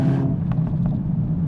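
A Mercedes-AMG A45 S hatchback engine gives a brief low rumble, loud and close, with a few short pops as the revs settle.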